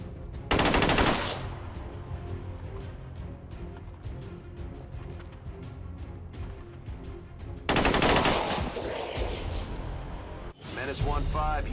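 Gunfire in XCOM 2: two loud, dense bursts of automatic fire a few seconds apart, with a final shorter crack near the end, over a steady game music bed.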